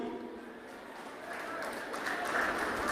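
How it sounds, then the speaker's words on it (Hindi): An audience at a Rahul Gandhi political rally claps in steady, dense applause that swells slightly toward the end, with crowd noise underneath. "ताली मत बजाओ अभी।"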